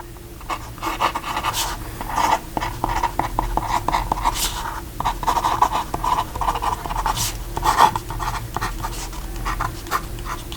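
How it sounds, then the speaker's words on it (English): A Wing Sung 698 fountain pen with a fine steel nib scratches across the first page of paper in close, crisp strokes. The strokes come in short irregular bursts with brief pauses, and no one speaks. "I think it's writing a little bit louder just because it's on the first page and it doesn't have some of the other paper underneath it."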